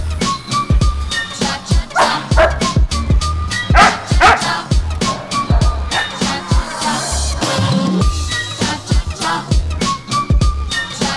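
Huskies at a husky cafe in Bangkok bark, yip and whine repeatedly, loud and close, in a busy, continuous stream of dog voices with occasional human sounds mixed in.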